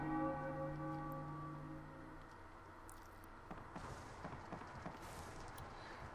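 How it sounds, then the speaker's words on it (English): A bell in the Final Fantasy IX video game tolls with one clear, resonant strike that slowly fades. Soft scattered game noises follow. "When yon bell strikes 3, under the axe thou shall be."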